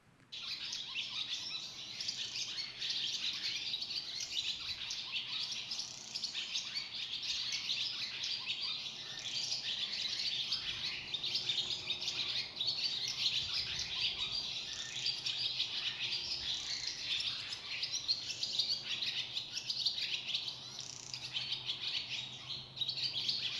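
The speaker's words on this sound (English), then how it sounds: "chirping of these birds went almost without interruption." Birds chirping almost without pause outdoors, a dense, steady chorus of high tweets from several birds at moderate distance, with a faint insect-like hum beneath.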